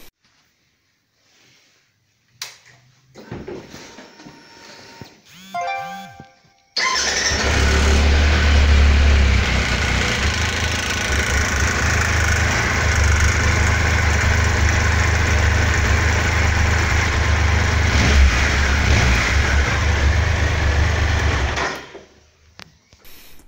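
A Triumph Tiger 1200 motorcycle with a faulty hydraulic cam chain tensioner starts after a few clicks and a brief crank, then settles into a loud, steady idle running for about fifteen seconds before shutting off.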